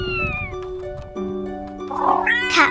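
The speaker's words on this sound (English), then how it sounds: "Cat." A domestic cat meows in a long, wavering call that rises into a louder, strained caterwaul at the end, close by and alone.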